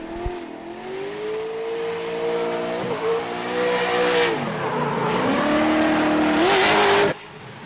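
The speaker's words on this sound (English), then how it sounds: "your 2025 Spec-D champion, Matt Rezeki, comes in on a solo run here, taking his bye run" A Spec-D drag race car making a solo bye run at Mission Raceway Park, engine loud and close as it revs and climbs through several gear shifts with rising and falling pitch, then cuts off abruptly near the end.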